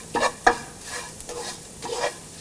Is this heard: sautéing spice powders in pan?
yes